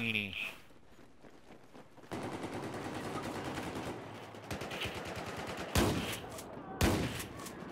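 Video game gunfire in a shooter match: bursts of automatic fire and several sharp, loud shot impacts sound close, with a player talking over them.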